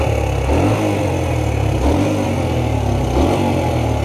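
A 125cc two-stroke motorcycle engine runs loud and near, with a buzzing idle that swells into short revs at regular intervals, no talking.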